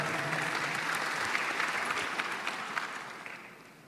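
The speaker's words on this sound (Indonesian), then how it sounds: "Ya, tepuk tangan." Audience applause at an Indonesian youth leadership event, steady dense clapping that holds at an even level for the whole stretch with no voices on top.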